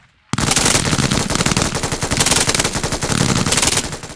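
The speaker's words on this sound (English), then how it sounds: "The MG3 belt-fed machine gun, for example, it's in the game, don't have it." A real machine gun fires in loud, close, rapid bursts right after a brief silence, the chattering rounds running almost continuously with slight swells between volleys.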